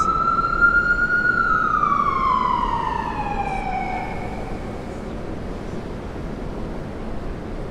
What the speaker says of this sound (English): Ambulance just gave up the siren.